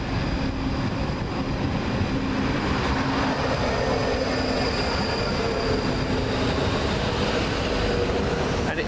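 A First ScotRail class 334 electric train runs past at High Street in Glasgow, a continuous rumble of wheels on track with faint squeals, steady and fairly close for nearly nine seconds.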